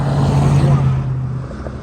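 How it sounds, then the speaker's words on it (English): A car speeds past on a street in Malaga, Fresno, California: a loud, close engine roar that swells then recedes over about two seconds. "Dude, that car is flying."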